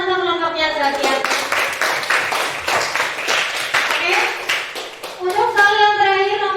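Classroom applause for a student group, a short burst of lively clapping from several hands that rises between stretches of an adult talking before and after.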